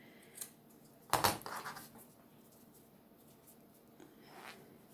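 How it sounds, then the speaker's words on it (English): Scissors trim the end of a T-shirt drawstring: one sharp, close snip with a short rustle after it, then quiet handling noise and a faint second touch, with no talking. "I'm going to trim that a little bit off the end there"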